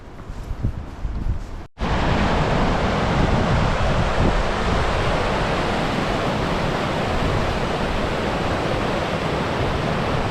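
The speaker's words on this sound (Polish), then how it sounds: "Glymur to chyba drugi największy wodospad na Islandii." Glymur waterfall in Iceland roars as a dense, steady, loud rush of falling water, briefly cut off near the start and then continuing unbroken with some wind buffeting. No one speaks.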